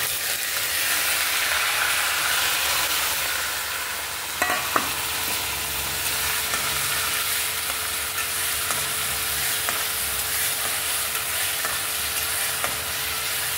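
Onion paste fries in hot oil with chilies, bay leaves and grated ginger, making a loud, steady sizzle. A few sharp clinks of stirring cut through briefly.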